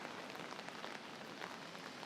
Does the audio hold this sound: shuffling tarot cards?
no